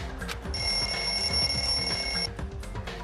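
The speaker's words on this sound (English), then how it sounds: "The lounge's wall clock alarm started ringing at 5:30." A wall clock alarm rings in the lounge in the video game Danganronpa 2: Goodbye Despair, a steady shrill electronic tone sounding for about two seconds over a low background hum, with no voices.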